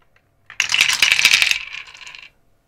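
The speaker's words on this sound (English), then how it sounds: "So I need to roll 6 dice" Six dice rolled for a board game, a bright clattering rattle of tumbling dice that bursts in, chatters busily and settles after about two seconds.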